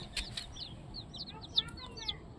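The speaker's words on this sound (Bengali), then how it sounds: "মুরগি" Chickens cluck in a series of short, high calls across a rural homestead, one note sharper and nearer than the others, set over a quiet background with faint low noise.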